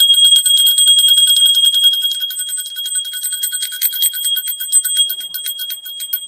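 A brass puja bell rings rapidly and continuously while food is offered to the deity during an Adhik Maas home worship, its bright metallic strikes loudest at first, then slightly softer and steady throughout.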